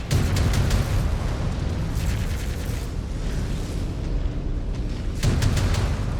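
Explosions and heavy booms from a mech being destroyed in the MechWarrior 5: Clans video game, loud and continuous with repeated bursts of crackling blasts throughout.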